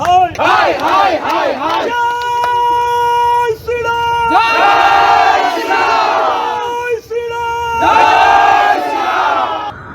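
Protesters staging a street sit-in around a candidate, their massed voices rising in loud rhythmic chanting and shouting waves that swell, briefly break off and surge again.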